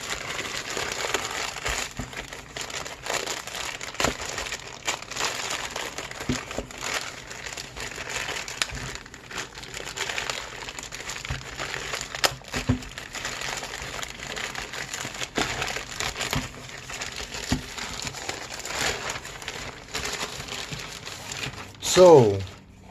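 Packaging crinkles and crackles steadily as a parcel is unwrapped and opened, rustling close by at a fairly loud level for over twenty seconds, with a sharper burst near the end.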